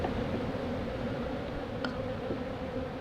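A cluster of honey bees hums inside a hive in January, giving a steady, dense, continuous drone close up with no voices.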